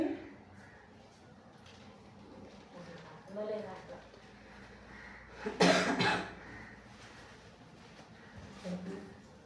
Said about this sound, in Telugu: నాకు ఒకటే దగ్గు అనమాట